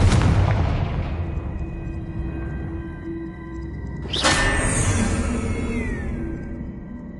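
Confringo spell explosion in Hogwarts Legacy, a loud fiery boom that decays slowly, followed a few seconds later by a second sharp blast with a ringing, fading tail.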